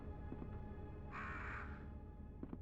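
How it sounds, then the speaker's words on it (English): Crows caw in the Resident Evil 2 video game (Nintendo 64 port): a single harsh, sustained caw cuts in loud over a low, continuous game ambience, with a few faint clicks before and after. "Oh, there's crows here."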